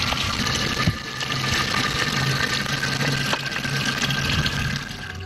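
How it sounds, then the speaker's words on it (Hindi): Water is drawn from a village well in a Hindu community in Pakistan, a continuous splashing and pouring over a low mechanical hum, with occasional knocks and clanks. "नारायण और दूसरे गांव वाले पानी निकालने को मुकद्दस काम समझते हैं।"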